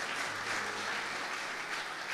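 Enthusiastic applause from a church congregation, steady even clapping from many hands sustained across the whole moment, somewhat distant and moderately soft, with no talking over it.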